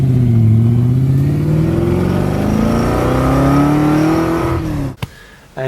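A TVR Griffith V8 sports car accelerates hard and close, its engine note climbing steadily in pitch for about five seconds before cutting off abruptly; no talk is heard.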